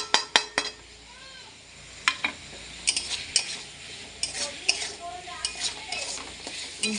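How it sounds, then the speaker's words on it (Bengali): Chili powder, turmeric and salt frying in a pot, with a spoon scraping and clinking against the metal in irregular strokes over a soft, steady sizzle. "এইদিকে মশলাটা ভালো করে ভেজে নেব।"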